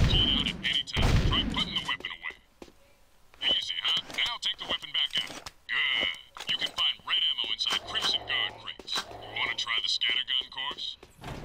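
Rapid bursts of gunfire at targets in the video game Jak 2, crackling in irregular volleys with brief pauses, mixed with game voices and radio-like chatter.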